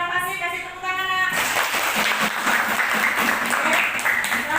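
Students in a classroom break into applause, a steady dense wash of many hands clapping that follows a short stretch of voices and keeps going at an even level.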